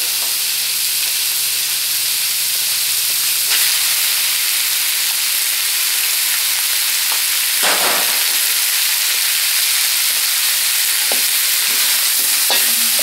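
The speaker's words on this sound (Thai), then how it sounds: "แล้วเราก็เอาผักมาใส่" Baby bok choy stir-fried in a hot pan with oyster sauce gives a loud, continuous sizzle and steamy hiss, broken by occasional scraping stirs of the spatula; nobody speaks.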